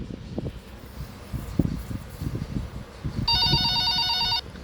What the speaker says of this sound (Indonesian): Tunggu ada yang telepon.